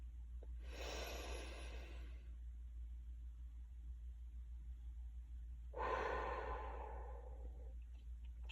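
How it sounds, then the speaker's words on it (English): Two slow, deep breaths, each a long airy inhale or exhale lasting over a second, separated by a quiet pause over a steady low hum, with no talking. "Breathe in. And breathe out. One more time, slowly."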